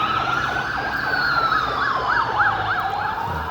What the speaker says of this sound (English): Breaking news, fire engine.